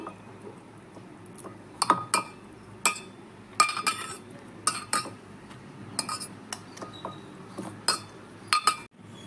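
A spoon clinks and scrapes against a vessel while mashing cooked brinjal, a series of sharp irregular metallic taps over a soft background, close and without speech.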